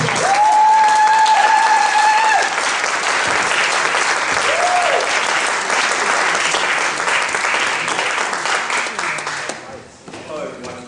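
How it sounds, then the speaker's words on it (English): An audience at a poetry honors event applauds poet Lamont B. Steptoe: loud, sustained clapping with some cheering and whistles that runs for about ten seconds before tapering off. "give a round of applause for Mr. Lamont B. Steptoe"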